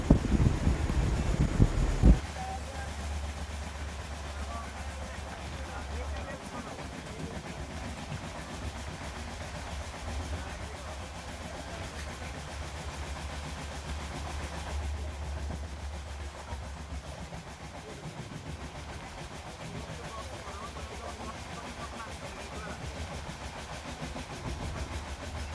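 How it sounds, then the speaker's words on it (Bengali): Tamralipta Express 12858 rounding a bend: a steady, loud rail rumble with faint clickety-clack of wheels and wind rush, after a heavier burst of noise at the start. "বন্ধুরা, কি সুন্দর ট্রেনটা বাঁক নিচ্ছে দেখো"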